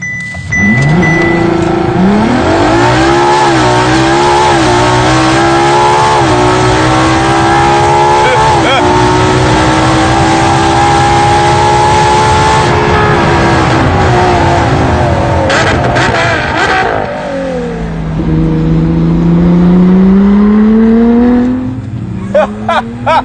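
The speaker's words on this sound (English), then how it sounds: "I'm going to hit the launch button, go full throttle, and then release the brake." Ferrari LaFerrari (2015) on a launch control run at full throttle: a loud, sustained engine roar that climbs through rising pitch sweeps and gear changes over about twenty seconds, drops briefly, then surges again.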